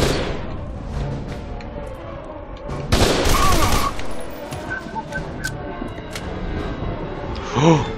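Sniper rifle fire and a chaotic fusillade of gunshots in the video game F.E.A.R. 2, with a loud burst of shots near the three-second mark over dense background combat.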